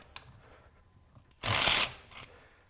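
A Durofix RW1216 12V cordless ratchet runs a nut off, giving one brief whirring motor burst of about half a second amid quiet clicks and handling sounds.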